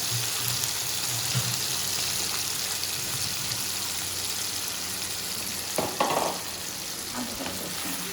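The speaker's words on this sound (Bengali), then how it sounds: "আমার পনিরটা ভাজা হয়ে গেছে" Paneer frying in a pan on lowered heat, an even, close sizzle running throughout with a brief stir or shuffle near the end, no talking.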